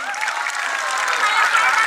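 A crowd claps and cheers at an outdoor kusti wrestling match, dense sustained applause that swells slightly toward the end.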